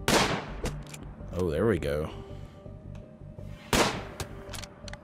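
Gunfire in the colony game RimWorld, a few sharp, separate shots spaced out over several seconds, with someone talking over them.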